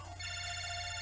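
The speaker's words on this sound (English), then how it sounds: "phone call, phone call. I'm picking up." A phone in Mega Man Battle Network 5 rings with a steady high electronic trill that holds clearly and evenly for about a second, alone with no voices.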